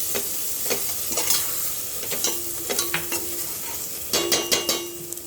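A spoon stirs turmeric and coriander powder with ginger-garlic paste in a hot pan for a village-style mutton dish, giving a steady sizzle broken by a series of quick, close scraping clinks, with no talking.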